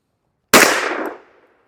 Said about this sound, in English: We got to keep shooting.